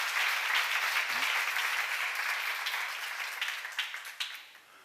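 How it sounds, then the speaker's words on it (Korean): A church congregation at a seminar breaks into dense applause that stays steady, then thins into scattered claps and fades out. "박수 하세요."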